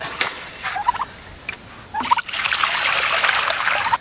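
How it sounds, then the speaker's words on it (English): A male turkey gobbles in a few short rattling bursts at a winter farmstead, followed by a steady trickling, splashing water sound that runs through the second half. "he's definitely a gobbler"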